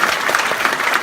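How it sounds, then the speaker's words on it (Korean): Dense, loud applause from a large audience at a business presentation event, a continuous close wash of many hands clapping with no talk over it. "오늘 트레이닝 해주신 많은 리더분들께 한번 감사의 박수 먼저 부탁드리겠습니다."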